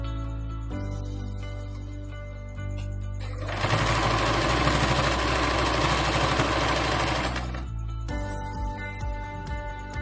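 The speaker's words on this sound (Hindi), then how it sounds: "तो मैं इसके पहले साइड में सिलाई करूंगी।" Sewing machine stitching the side of a cloth face mask, a loud close motor hum with a rapid mechanical whir that runs steadily through the middle and eases back to a quieter idle hum at both ends.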